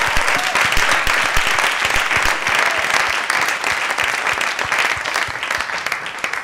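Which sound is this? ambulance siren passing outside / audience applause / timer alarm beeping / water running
audience applause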